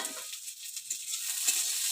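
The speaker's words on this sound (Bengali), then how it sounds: "তো লাল লাল করে পেঁয়াজটা ভেজে নেব।" Onions fry in oil for a ridge gourd and prawn curry, a soft, breathy sizzle with light stirring scrapes in a brief, quiet burst and no talking.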